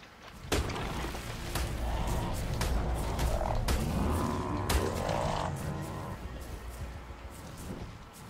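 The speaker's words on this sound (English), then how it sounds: "I meant to kill the frog." Frog croaking in a swamp in the Ark Survival game, a run of low croaks and thumps sounding over the game's background ambience for several seconds, with no talk.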